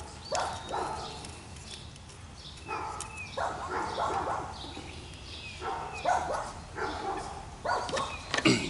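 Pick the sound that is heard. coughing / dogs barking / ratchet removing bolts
dogs barking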